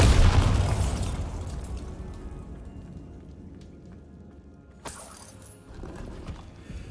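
A Bombarda blasting spell explodes in the Hogwarts Legacy game with a loud, deep boom that rumbles and decays over several seconds, followed by a sharp crack and scattered debris-like patter.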